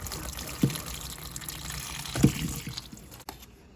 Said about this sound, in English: you just want to take your broth and pour it in